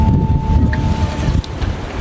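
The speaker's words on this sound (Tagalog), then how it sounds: "Lakas ng hangin, no?" Strong wind buffets the microphone in a loud, low rumble that shifts and gusts continuously, with a faint steady tone underneath.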